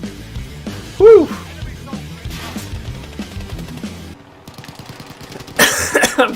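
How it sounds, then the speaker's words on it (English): A player character coughs in Call of Duty: Warzone, one loud burst early on, surrounded by game engine noise, effects and someone talking. "I'm coughing."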